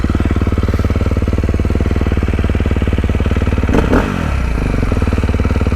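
A 2024 Beta 450RX dirt bike engine idles close up with a fast, even thumping pulse, loud and steady, with a brief clatter partway through.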